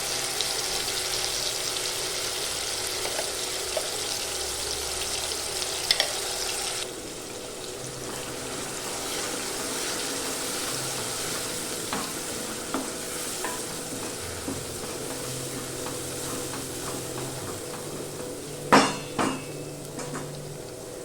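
Ground onion chili paste sizzles in a pan of spinach, with a steady frying hiss, a spoon stirring and occasional clinks against the pan.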